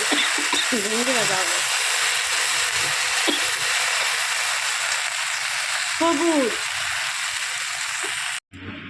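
Bhindi (okra) frying in a home kitchen pan makes a continuous loud sizzle, with short bursts of talk over it near the start and around six seconds, then an abrupt cut near the end.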